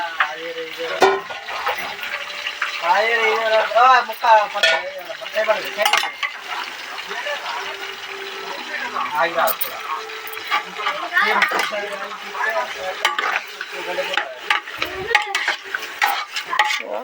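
Country chicken fries in hot oil in a pot. Clattering stirring and a light sizzle run throughout, close by, under a person talking.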